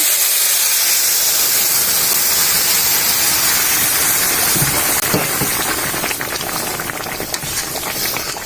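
Whole cumin with bay leaf and dried red chilli tempering hits hot dal for a loud, continuous hissing sizzle with steamy bubbling that holds steady throughout, close and without speech.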